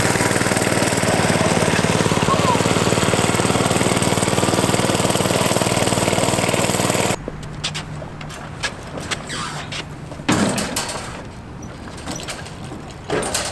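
The small engine of a homemade motorized shopping cart runs loud and steady, a buzzing drone that cuts off abruptly partway through, leaving scattered clatter and a brief restart-like burst.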